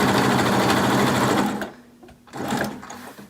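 Sewing machine stitching straight across a cloth face mask seam, a close, rapid mechanical whir that stops briefly and then runs again for a short burst.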